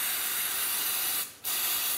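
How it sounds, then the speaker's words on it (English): CRC brake cleaner hisses from an aerosol can onto small parts during a CAV injection pump rebuild, two close, loud bursts split by a brief pause. "make sure you got some of this CRC brake cleaner with you"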